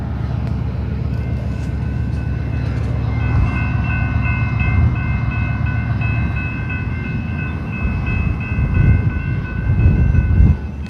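Slow freight train rolling through Friona, Texas, a steady rumble of wagons and wheels with a sustained horn-like tone layered over it, loud and close throughout.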